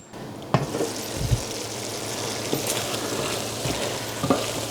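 Chorizo pasta sauce simmering in a covered pot gives a steady soft sizzle and bubbling hiss, with a few light clinks and knocks of the lid or utensil over nearly five seconds; no one speaks.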